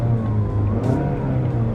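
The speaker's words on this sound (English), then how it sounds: "all you have to do is just push the start button to start the car" A 2018 Mazda CX-5 Touring engine running just after a push-button start, a steady low hum with a brief rise in the middle, heard close and without talk.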